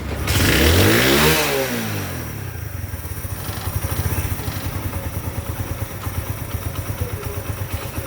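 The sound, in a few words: tuned 70cc motorcycle engine starting and revving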